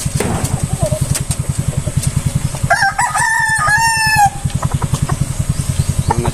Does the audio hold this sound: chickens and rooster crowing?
yes